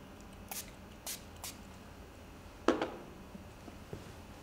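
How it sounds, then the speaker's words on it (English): A spray bottle of alcohol is squeezed several times while a skin hair system is being prepared for gluing. Short, soft hissing spritzes come in quick succession, followed by one sharper burst, in a quiet room. "what we do is we would spray a little bit of alcohol"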